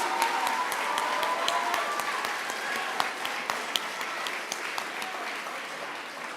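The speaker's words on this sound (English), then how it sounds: "let's give another huge round of applause for all of our Royal of the Year winners" A room full of people applauds award winners at a school stepping-up ceremony, a dense, steady wash of many hands clapping that fades gradually, with a few sharper nearby claps standing out.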